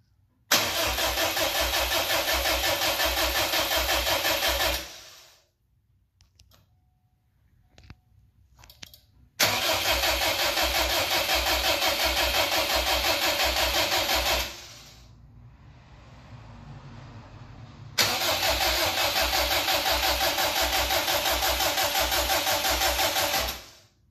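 A Subaru WRX engine swapped into a GC8 2.5RS coupe is cranked by the starter in three separate bursts of about five seconds each without firing, with pauses and faint clicks between.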